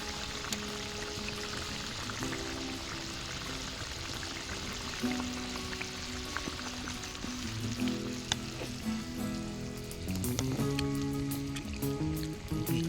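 Tomato and ground mustard paste bubbling in a pan for a puti fish curry, a quiet steady sizzle and simmer with soft stirring and scraping sounds growing busier toward the end.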